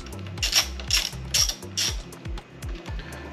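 Ratchet wrench snugging the handlebar riser bolts on a BMW G 310 GS motorcycle, four quick bursts of close, crisp clicking, each a short run of pawl ratchets, followed by a few softer clicks.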